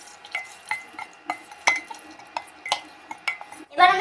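Bay leaf and dried chilli stirred in oil inside a pressure cooker: a rhythmic series of light metallic clinks and scrapes of the spoon against the pot, fairly close, with a faint background hiss and a brief louder rattle at the end.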